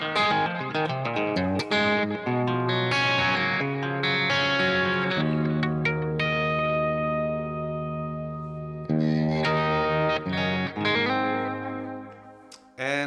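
Electric guitar riffing through a stereo delay, sustained chords and single notes ringing out with repeating echoes and a lush, slightly distorted tail, loud and continuous with a brief pause near the end.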